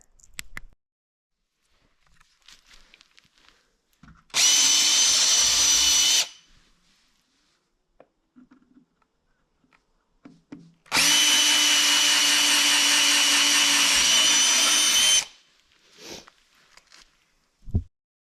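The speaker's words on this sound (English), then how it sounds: "I just have to drill 4 holes in this base to put the bolts through" Power drill boring four bolt holes through a mount base: two loud, steady whining bursts of about two and four seconds, separated by quiet handling clatter.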